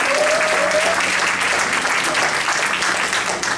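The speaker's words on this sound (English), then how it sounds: "Give another round of applause." An audience at a Sunday morning church presentation breaks into sustained applause, a dense, loud wash of clapping that holds steady throughout with a faint voice briefly over it.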